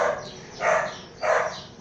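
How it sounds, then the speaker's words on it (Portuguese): A neighbour's dog barks twice from a short distance, two muffled, evenly spaced woofs over faint background noise. "Perdoe aí o latido do cachorro da vizinhança"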